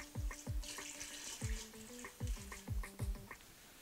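Water splashes and gurgles into a tank in uneven bursts, with low bubbling thumps and tonal glugs, close by and fairly quiet.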